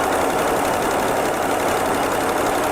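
A 1976 AMC Pacer, abandoned and just restarted after 20 years, runs with a loud, dense, rough engine noise as it is shifted into reverse, steady and close throughout with no talking.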